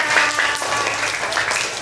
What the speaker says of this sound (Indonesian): Oke, tepuk tangan untuk mereka.